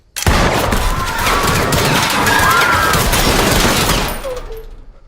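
Loud, rapid bursts of gunfire crackle continuously for several seconds, dense and close, before trailing off.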